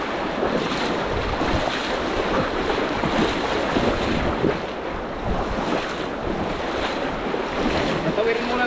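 Loud, steady rush of turbulent river water fills the whole stretch without a break, close and continuous, with no voices.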